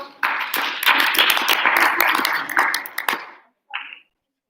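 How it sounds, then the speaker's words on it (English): A burst of audience clapping for about three seconds, dense and fairly loud, fading out, followed by a brief short sound after a pause. "claps again for Ava."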